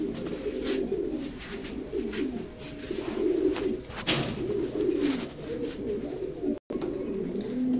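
A female pigeon, a second-decade bird with many feather bars, coos in repeated low, throaty phrases close by after being released from a loft, with rustling and a brief dropout near the end.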